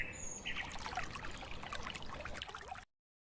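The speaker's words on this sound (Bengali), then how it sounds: "আমি হাত মুখ ধুয়ে আসছি এখনই।" Water pours and trickles, as for washing hands and face, in a Bengali village cartoon; a steady splashing stream with faint bird calls runs close and fairly loud for about three seconds, then stops abruptly.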